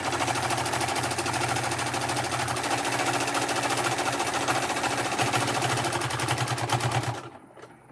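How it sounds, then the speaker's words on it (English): A sewing machine stitches a quarter-inch seam up the side of a small snap pouch, running at a steady rapid clatter close by for about seven seconds, then stopping abruptly. "you're going to sew all the way up with a 1/4 inch seam"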